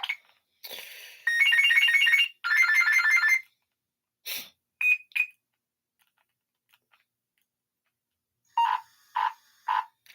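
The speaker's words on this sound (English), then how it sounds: "Electrifying ringtone." An old, simple cell phone ringtone called Electrifying plays as bursts of harsh electronic trilling and buzzing, followed by short chirps and a few rhythmic beeping pulses, loud and clear with silences between.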